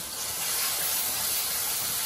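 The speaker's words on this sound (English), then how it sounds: "My onions are frying." Steady sizzling hiss of onions frying in a hot pan, constant and fairly close, with no voices.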